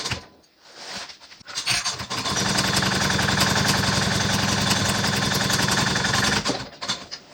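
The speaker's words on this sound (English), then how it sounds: "I'm going to sew that using 1/4 inch seam allowance." A sewing machine stitches the bottom of a bag lining with a 1/4 inch seam, a steady mechanical whir that runs for several seconds between brief quiet handling noises.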